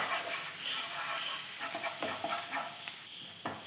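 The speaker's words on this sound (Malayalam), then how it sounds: "ഇനി ഇതിൻ്റെ കളറ് മാറുന്നിടം വരെ ഒന്ന് ഫ്രൈ ചെയ്തെടുക്കണം." Crushed garlic, ginger and green chilli sizzle and fry in a pan, a steady close crackle with a few stirring scrapes, ending with a brief quieter spell.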